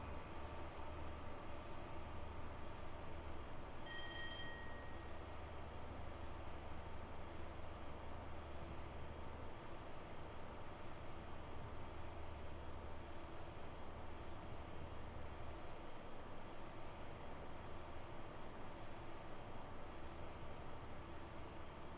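A train in a video game on the East Coast Main Line is pushed to full throttle, with a constant low rumble and rolling rail noise plus a brief tonal whine near the start. It stays faint and steady, and no one talks.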